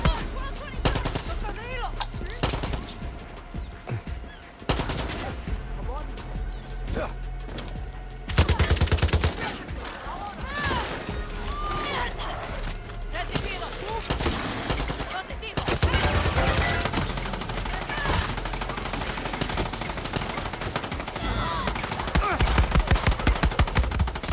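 Video game gunfire in long rapid bursts of machine-gun shots, loud and near, with some faint talk in places.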